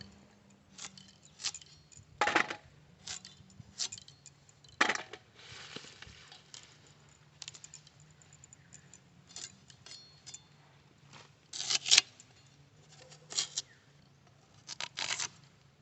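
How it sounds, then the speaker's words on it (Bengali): Knife cutting through cauliflower florets for a curry in a village kitchen, giving a string of crisp, irregular crunching chops close by over a low steady hum, with louder clusters of cuts now and then. "কপি দিয়ে তরকারি রান্না করবো এইভাবে এই সাইজের কাটবো"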